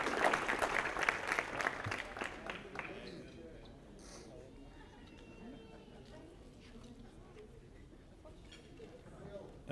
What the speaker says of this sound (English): so a round of applause for Jessica